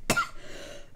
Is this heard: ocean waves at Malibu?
no